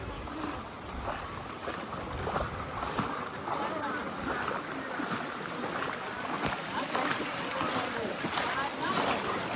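A flooded river's muddy water rushes and churns in a steady, broad roar, with faint gusts and splashes throughout.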